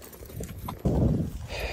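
Horse hooves clip-clopping at a steady walking rhythm, fairly close and moderately loud, growing denser and louder partway through with no talk over them.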